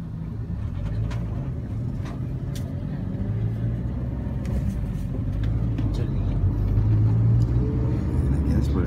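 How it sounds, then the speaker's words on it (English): Inside a minivan stuck in a traffic jam on the way to Koh Chang, Thailand: a constant low engine and road rumble with faint passing-traffic noises and indistinct voices murmuring underneath. "I guess we ran into a bit of a traffic jam."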